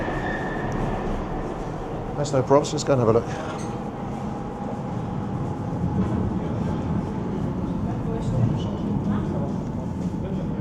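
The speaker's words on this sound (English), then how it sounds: "It sounds like we just missed our first train." A metro train rumbles and hisses away in an underground station in Budapest, with squealing brakes briefly and a person speaking over the steady background roar.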